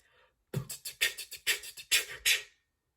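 A voice imitates drum sounds: a series of sharp, breathy exhaled beatboxed snares with a quick inhale, ending in a rapid snare triplet, close and alone.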